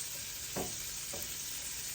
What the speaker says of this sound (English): So I'm frying some of that.